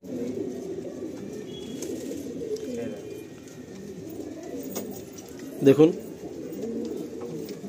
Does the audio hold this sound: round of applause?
no